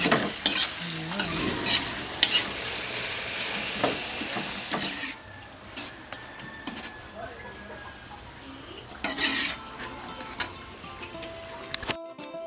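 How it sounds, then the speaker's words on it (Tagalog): Banana blossom sautéed in a pan, with steady sizzling and repeated scraping stir strokes throughout and a voice speaking over the cooking. "Luto na itong ginisa na puso."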